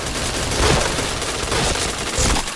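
Continuous automatic gunfire from the PointBlank video game, loud dense bursts of rapid shots filling the whole moment with no pause.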